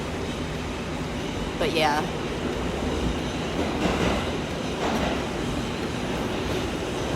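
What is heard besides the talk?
train riding, interior of train car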